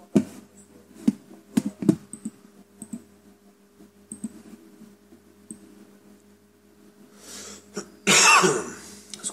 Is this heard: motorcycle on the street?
no